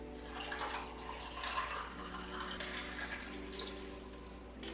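Dragon fruit lemonade poured from a container into a glass, a soft, steady trickle of liquid running close by for a few seconds in a quiet kitchen.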